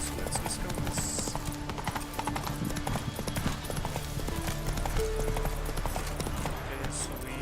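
A horse trots on in The Witcher 3 video game, its hooves clip-clopping in a steady, close rhythm over a dense game soundscape while someone talks throughout.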